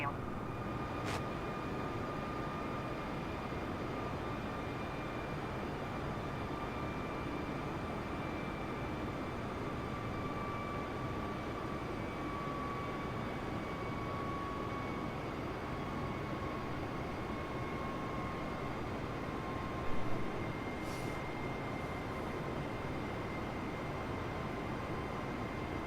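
A Cessna light aircraft engine drones steadily and loudly in flight, an unbroken hum with steady tonal whine heard from inside the cabin.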